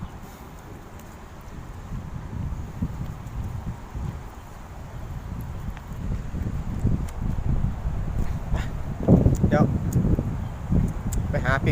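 Strong wind rushes through trees outdoors in a steady, broad roar with rustling gusts that swell toward the end, and a voice speaks briefly near the end.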